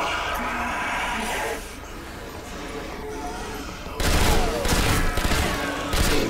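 Machine gun fire in the video game Zombie Army Trilogy (PS4): dense, continuous rapid bursts, louder and sharper in the final two seconds, over constant game noise.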